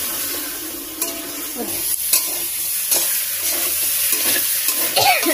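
Spice masala for a tilapia curry is stirred and fried in a pan in a village kitchen, with a steady, loud sizzle broken by scraping strokes of the spoon.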